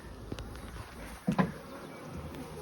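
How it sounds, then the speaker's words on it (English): Honey bees buzz around an open beehive on a prairie, a faint steady hum with a couple of brief louder passes close by, no talking. "Look at the bees."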